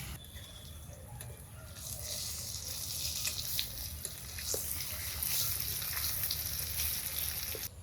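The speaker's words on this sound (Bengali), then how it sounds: "ডিম কড়াইতে ভাজা হতে থাক" Steady, fairly quiet sizzling of egg frying in hot oil in a wok, a continuous crackle that swells slightly partway through, with no talking.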